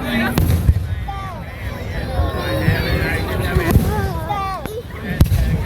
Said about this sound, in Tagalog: Dion, fireworks